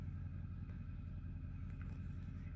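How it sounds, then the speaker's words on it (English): Deep, steady exhaust rumble from a lifted monster truck with an oversized exhaust, idling low and continuous close by. "Big exhaust."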